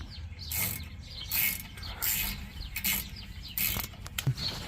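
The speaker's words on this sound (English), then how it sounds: "Next I'm going to go back to the ratchet" A hand ratchet clicks in short bursts while tightening on a Ford truck's driveshaft U-joint, with quick repeated ratcheting strokes close by and small metallic taps.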